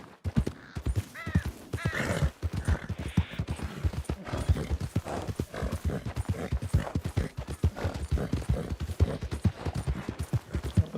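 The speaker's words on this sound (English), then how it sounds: "I could seriously just ride this horse all around the place and just take in all the sights" A horse ridden in the video game RedM clip-clops along in a steady, continuous rhythm of close, crisp hoofbeats, heard alone without speech.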